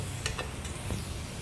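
Garlic cloves, fried red in oil, sizzle in a pan with a soft steady crackle, punctuated by a few light stirring scrapes and ticks.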